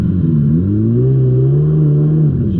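A dirt bike engine, an X2, revs up as more throttle is given, a loud close drone whose pitch rises and holds high before easing off slightly at the end.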